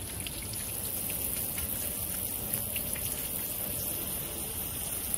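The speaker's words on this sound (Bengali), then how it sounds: "বৃষ্টি পড়ে, বৃষ্টি" Rain falling, a steady even hiss of drops on surfaces without pauses, moderately loud and close with no voices.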